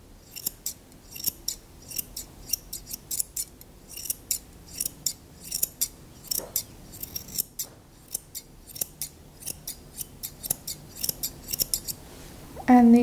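Scissors snip steadily while a groomer shapes a round-muzzled Asian Fusion head with Princess Leia ears, crisp close cuts repeating in a quick, even rhythm for the whole stretch.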